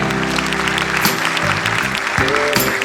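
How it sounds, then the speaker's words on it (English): An audience applauds young dancers at a school annual day. The clapping is a loud, continuous roar mixed with sustained tonal music or sound underneath, with bursts of brighter noise along the way. "one big round of applause for them."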